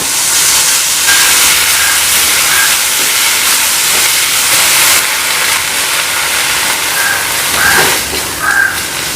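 Mint leaves sauté with garlic in a hot pan for mint rice, giving a loud, close, unbroken sizzling hiss that lasts throughout.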